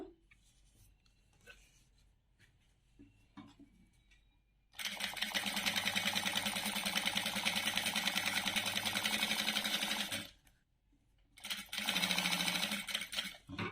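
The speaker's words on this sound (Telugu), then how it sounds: "దీని మీద పెట్టి నేను కుట్టు అనేది వేస్తున్నానండి" A sewing machine stitches thin blouse tie cords, starting with soft handling clicks before a loud steady whirring run, a short pause, then another burst of stitching, with no talk.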